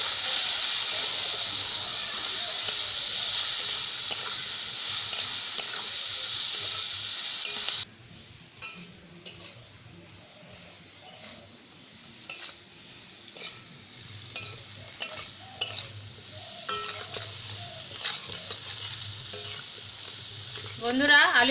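Potatoes and spices for a drumstick-flower ghonto fry in a pan, first with a loud, dense sizzle, then a quieter crackle with irregular scraping and stirring clatter.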